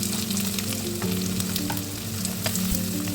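Chopped onion frying in hot oil in a pan for a Kerala-style breadfruit stir fry, a steady close sizzle with occasional scraping stirs and crackles, no voices.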